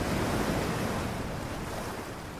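Ocean waves washing onto a beach, a continuous broad rushing surf roar with wind, steady and fairly loud throughout.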